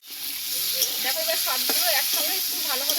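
Vegetables, green chillies, salt, turmeric and ground spice paste fry in a pan with a loud, steady close-up sizzle and stirring scrapes, over soft background music.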